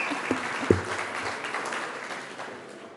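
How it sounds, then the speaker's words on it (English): Audience applause at a horse racing awards ceremony, a steady wash of clapping from a large crowd lasting a few seconds and slowly fading, with a couple of sharper claps standing out near the start. "You can clap if you want."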